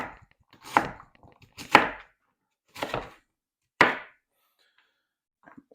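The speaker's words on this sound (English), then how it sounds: "So let's just get these all sliced up fairly fine." Collard greens are sliced with a knife on a cutting board, producing four separate crisp chops spaced about a second apart, close and clear against near silence.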